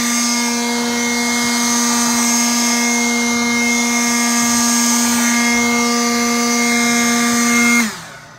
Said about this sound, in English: let's go ahead and blow dry it